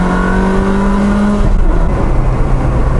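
A manual Ferrari 360 engine drops through the gears, its loud close drone falling in pitch then rising briefly as a downshift catches, heard alone with no talk.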